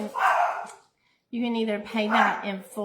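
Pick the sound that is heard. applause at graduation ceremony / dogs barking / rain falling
dogs barking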